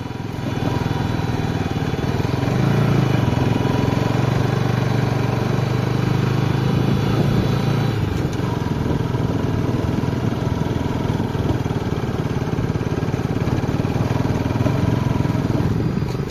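An NS 200 motorcycle engine drones steadily and loudly throughout on an offroad trail at Shivapuri, with wind rush, as if recorded while riding.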